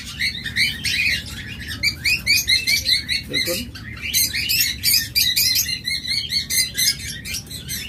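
Pair of double red factor pet birds chirping in rapid, repeated bursts close by, with a brief spoken word partway through.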